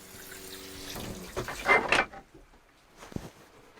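Water runs from spigots at a winter homestead, a hissing rush that swells briefly and then cuts off as the taps are shut, followed by a soft knock, close by and without talk.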